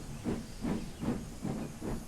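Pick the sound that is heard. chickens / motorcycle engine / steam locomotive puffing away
steam locomotive puffing away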